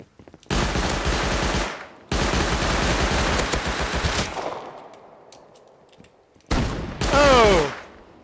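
Loud, close bursts of automatic gunfire in the video game Rust come in long sustained volleys separated by brief gaps, then a final burst with a faint voice underneath.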